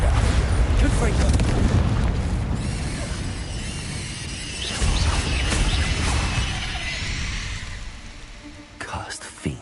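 Explosions from Bombarda and Confringo spells in a video game rumble heavily and booming at first, then fade into lighter crackling debris, with a voice speaking over the blasts.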